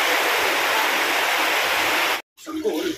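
Rushing floodwater roars as a loud, steady wash for about two seconds, then cuts off abruptly, followed by quieter sound with faint voices.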